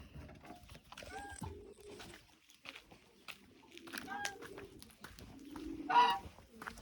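Goose honking outdoors near rabbit enclosures, a few short nasal honks scattered through the clip, with a louder honk near the end amid ambient rustling.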